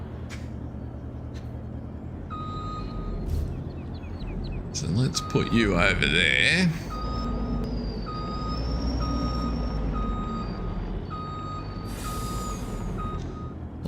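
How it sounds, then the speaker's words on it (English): A truck in Farming Simulator 22 backs up with a steady series of reversing beeps, then a loud hiss of air brakes, over a low engine rumble while someone talks. "I do like the sound of that truck."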